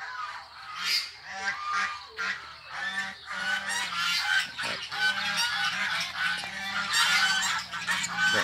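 Geese and ducks honking and calling together on a Thai rice-field farm in the morning, a dense, continuous chorus of nasal honks close by, with no talking over it.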